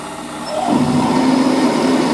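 A power drill with an 8.5 mm bit, drilling a tapping hole for an M10 thread, spins up and runs steadily with a high whine, close by, with no talking over it.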